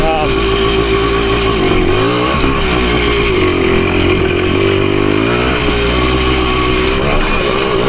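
A PE250 dirt bike engine chugs steadily at low revs on a trail, loud and close, with a rough uneven rumble throughout.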